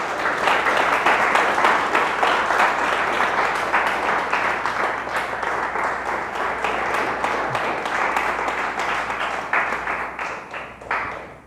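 Congregation in a Spanish-language church service giving a strong round of applause, dense sustained clapping from many people with faint rhythmic accents, loud and continuous before tapering off at the end.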